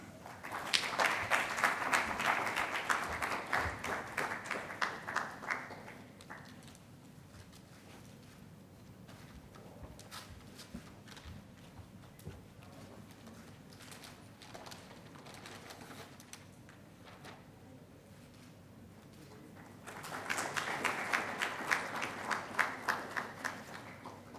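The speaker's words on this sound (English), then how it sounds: "May I have a round of applause, please." Round of applause from the audience at the inaugural session of a leadership summit for sustainable development, loud clapping for about six seconds, a quieter stretch of scattered sound and faint voices, then a second strong burst near the end.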